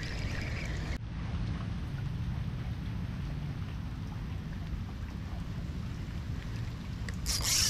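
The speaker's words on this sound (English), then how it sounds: "There's giant rain coverage right there. It's like a big wall of rain." Heavy rain pours steadily around a kayak out on open water during a storm, a dense, continuous hiss and patter with a low rumbling undertone, loud and unbroken throughout.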